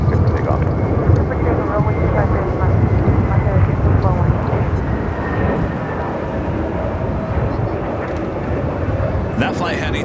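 An Airbus A319 airliner takes off at Los Angeles International Airport with a deep, continuous roaring rumble that swells and then eases slightly, while a voice talks over it.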